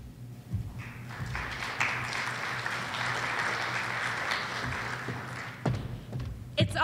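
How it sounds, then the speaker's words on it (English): An audience at a farm safety talk applauds in a steady, even wash of clapping lasting several seconds, moderately loud, before a speaker begins. "It's always awesome when you can get a round of applause before you even do anything, right?"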